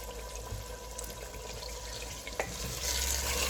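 About a kilogram of chicken cooks in a clay matka pot, giving a steady close sizzle and hiss with a brief clatter midway and the frying swelling louder toward the end.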